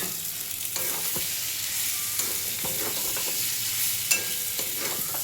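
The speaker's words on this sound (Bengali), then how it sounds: "ডিমটা দিয়ে একটুখানি ভেজে তারপরে জলটা দিয়ে দেবো" Eggs fry with reddish-browned onion in a pan for a spiceless egg curry, giving a steady close sizzle broken by scattered scraping clicks of stirring.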